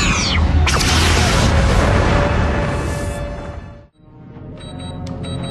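A starship weapon fires from its port tube in Star Trek Enterprise, a loud booming rush that swells and fades over several seconds before cutting off, followed by faint electronic chirps.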